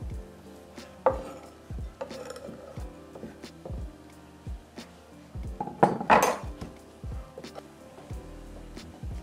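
Utensils clink and scrape against a bowl as herbs are mixed in a bistro-style kitchen, with scattered knocks and a brief louder clatter of metal on dish, close and without talk.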